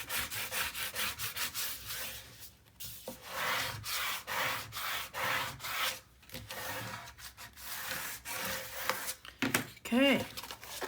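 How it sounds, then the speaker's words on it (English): Paper being burnished with a tool for a Graphic 45 mini album, repeated close scraping rubbing strokes in quick rhythmic bursts, with a brief squeaky sound near the end. "and we're going to burnish."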